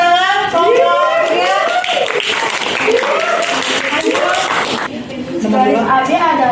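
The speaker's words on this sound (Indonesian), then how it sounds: "Oke, betul, tepuk tangan." Classroom applause in an Indonesian school lesson, a steady wash of clapping that carries under loud children's voices and chatter throughout, dipping briefly near the end.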